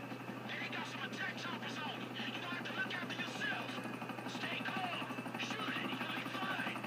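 A helicopter in GTA V: steady rotor drone and engine hum fill the scene throughout, with game sound effects and a voice talking over it.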